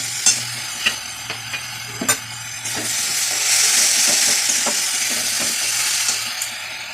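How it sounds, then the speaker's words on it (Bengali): Fish frying in hot oil for a small-fish curry, a steady close sizzle that swells midway, with several sharp utensil taps and knocks against the pan. "মাছটা ভাজবো"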